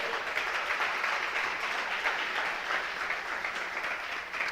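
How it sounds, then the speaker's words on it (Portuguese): Church congregation applauding during a sermon, steady continuous clapping from a large group heard at a moderate distance, with no voices over it. "Você pode aplaudir o nome do Senhor?"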